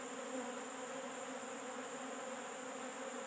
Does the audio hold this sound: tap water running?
no